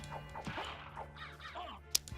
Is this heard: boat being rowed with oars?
no